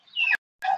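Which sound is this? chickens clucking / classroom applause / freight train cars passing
chickens clucking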